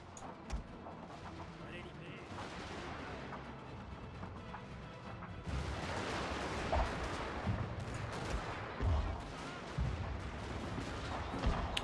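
Artillery fire in the Fall of the Samurai strategy game, a dense rumble of booms and crackling gunfire that swells louder about halfway through, with heavy thuds standing out over continuous battle noise.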